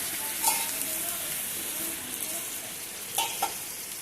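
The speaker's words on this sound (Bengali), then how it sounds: "জলটা দিয়ে গ্যাসের আঁচটাকে একদম লোতে করে ক্যারামেলটাকে আস্তে আস্তে আমি গলিয়ে নেব" Caramel melting in water over a low gas flame while making mishti doi in a steel bowl, a faint continuous hiss and bubble with a few light clinks of a utensil.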